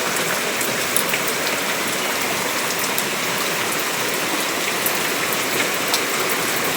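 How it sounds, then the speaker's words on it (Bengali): Heavy rain falls outdoors as a dense, even hiss of drops on surfaces, loud and constant with a few sharper patters and no talking. "আর এদিকে দেখো বৃষ্টি চলে এসছে"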